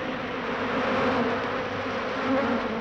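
A dense swarm of insects buzzes in a steady, loud, continuous drone with a slight wavering pitch, a sound effect from the 1968 film Genocide, with no talking.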